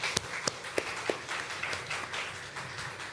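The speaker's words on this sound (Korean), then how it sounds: "우리 어린아이들에게 축복의 박수 한 번 더 쳐주시기" A church congregation claps for the children at a Sunday worship service, scattered, fairly sparse applause with a few sharper individual claps standing out at an uneven rhythm.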